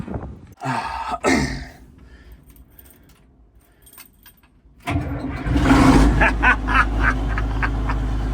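A diesel tractor is prepared with keys jangling and a few thumps, then its engine cranks and catches about halfway through, settling into a loud, steady, close rumbling idle.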